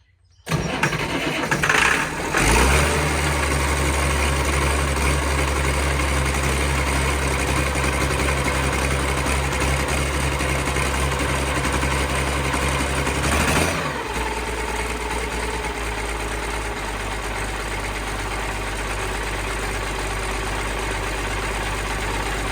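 An Allis Chalmers 190XT tractor engine cranks briefly, catches, and settles into a loud, steady running rumble; around the middle the tone shifts slightly as it keeps idling on its own.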